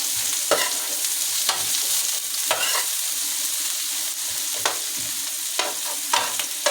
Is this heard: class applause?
no